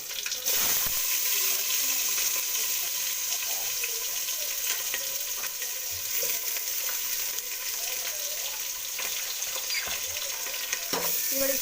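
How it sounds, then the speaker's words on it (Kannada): Onion fries in a pan with mustard seeds, curry leaves and garlic, crackling in a bright continuous sizzle broken by several sharp scrapes and knocks of stirring. "ಈರುಳ್ಳಿ ಚೆನ್ನಾಗಿ ಫ್ರೈ ಆಗಬೇಕು."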